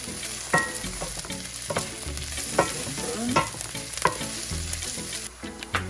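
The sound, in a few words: onions frying and being stirred in a pan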